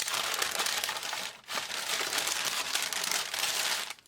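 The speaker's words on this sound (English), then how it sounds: "So this is the sort of packing paper I'm talking about." Crinkly brown packing paper of the kind that arrives in Amazon deliveries, crumpled and handled up close in continuous loud rustling bursts, with a brief lull partway through and no talking.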